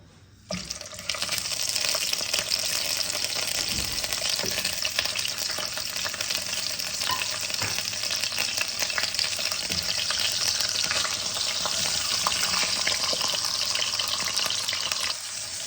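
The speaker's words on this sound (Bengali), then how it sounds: "আমি দেখো এবার মাছের মাথা দুটোকে ভেজে নেব।" Two fish heads sizzle in hot oil in a pan, a dense, steady hiss and crackle that starts abruptly after a quiet second and continues loudly and evenly to the end, with no voices.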